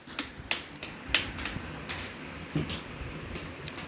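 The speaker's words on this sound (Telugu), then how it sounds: "అజ్మత్కు రోహిణికి క్లాప్స్ కొట్టండి." Small children at an anganwadi preschool clap in a sparse, uneven scatter of sharp claps over a quiet room.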